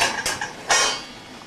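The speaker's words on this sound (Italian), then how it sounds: "Allora, togliamo il coperchio." A metal lid is lifted off a large pasta pot: two sharp clanks about half a second apart, close and fairly loud, with no talking.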